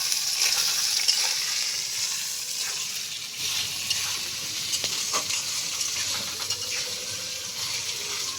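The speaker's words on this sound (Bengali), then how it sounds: "4-5 মিনিট সময় নিয়ে বিনস, আলু, গাজর আমি ভেজে নিলাম।" Beans, potatoes and carrots fry in a pan, a continuous bright sizzle with occasional stirring scrapes and clinks, steady and close.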